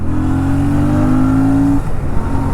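A Royal Enfield Classic 650 motorcycle on the road, its engine droning loud and steady with a sustained tone that drops away as it shifts down a gear, wind noise running underneath.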